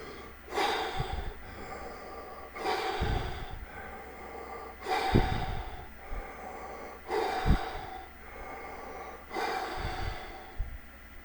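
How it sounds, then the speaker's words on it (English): Loud, rapid, noisy breaths taken close up in a steady rhythm, about five forceful bursts with short gaps between them. "I immediately start breathing hard and fast breaths like this"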